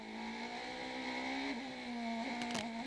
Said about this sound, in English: There you hear the wheel spin. Seems especially tricky there at turn 8.